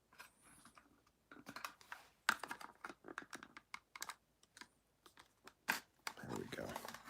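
Packaging of a Tarmac Works RWB Porsche model car is worked open by hand, giving crisp crinkles, tears and tapping clicks in irregular bursts, with a person talking at times.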